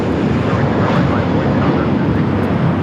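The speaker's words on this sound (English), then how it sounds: "This is American Airlines 382 taking off to Boston on the A321." An American Airlines A321 jet taking off from Los Angeles airport for Boston gives a loud, continuous low roar with gusty wind noise on the microphone.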